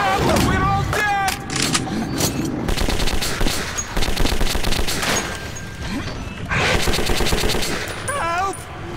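Loud, close bursts of rapid machine-gun fire and single shots in a video-game shootout, dense and continuous over a rumbling background, with shouting voices mixed in.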